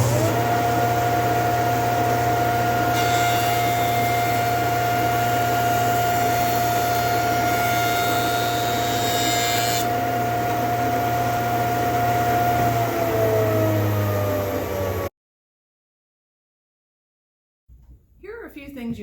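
A woodworking jointer planing a board: a steady motor whine builds into a louder, rougher cutting roar for several seconds, drops back to the hum, winds down, and leaves near silence.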